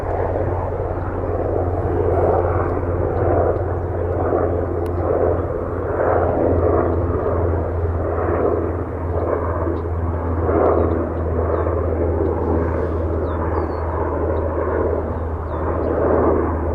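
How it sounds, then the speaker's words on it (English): Aircraft noise near Toronto Pearson airport, likely a helicopter, as a steady loud engine roar with a low drone held throughout, with no talk. "Chopper."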